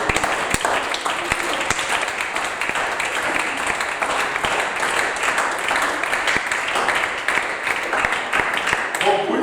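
A church congregation applauds and cheers in praise of the Lord, a long sustained round of dense clapping with voices shouting and cheering throughout.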